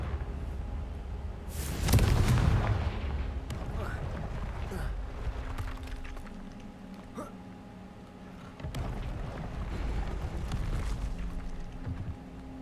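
Confringo blasting spell in the video game Hogwarts Legacy lands as one loud, rumbling burst early on, followed by quieter game ambience, with a voice talking now and then.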